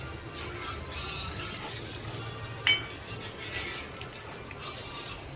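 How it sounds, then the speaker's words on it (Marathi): Colocasia leaf rolls (aluvadi) fry in oil in a home kitchen pan, giving a steady, soft sizzling hiss with one sharp utensil clink partway through. "आज बघा बनवले आहे आळूच्या वड्या. आणि इकडे मी तळत आहे त्या"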